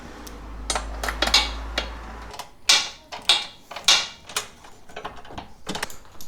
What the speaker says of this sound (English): just tighten these up. These are 10 millimeters, so use a small wrench and a socket.